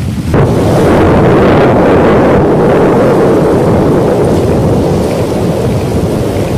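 A loud, continuous deep roar with rumbling low end, like a violent eruption, sustained without pause for several seconds and dominating everything.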